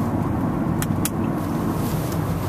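A car cruises along the road in a steady low interior rumble of engine and tyre noise, with a couple of brief clicks or taps heard near the start.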